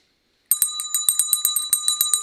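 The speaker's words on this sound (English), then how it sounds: "Erica, how does the bell sound in the microphone" After a brief silence, a small handheld bell rings out close and bright in a quick run of about a dozen strikes at a steady rhythm, with the metallic tone lingering between hits.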